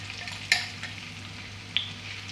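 Boiled eggs coated in masala fry in a pan, a soft, low sizzle with a low steady hum underneath and two brief clicks or taps as they are turned, no voices.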